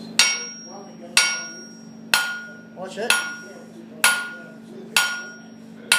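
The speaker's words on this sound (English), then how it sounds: "I'm swinging the hammer like that" A blacksmith's hammer rings on hot metal at the anvil during a forging lesson at the Port of Echuca, with six sharp, evenly spaced strikes about a second apart, each leaving a bright metallic ring that fades before the next blow.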